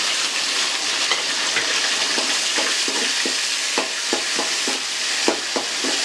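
Chopped small onions and dried red chillies fry in hot oil, a steady dense sizzle with intermittent stirring clatters from a utensil in the pan, close and continuous.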